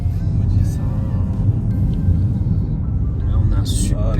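A car drives along a road in Japan near Mount Fuji, heard from inside the cabin as a steady low engine and road rumble, with people talking over it.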